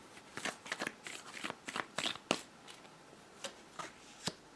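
Tarot cards shuffled and drawn by hand, a quiet run of soft riffling flicks and crisp snaps in an irregular rhythm, close and faint with no speech over it.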